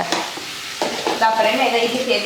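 Tomatoes and mint sauté in a pan for chutney, giving a close sizzle broken by a few stirring scrapes and clinks.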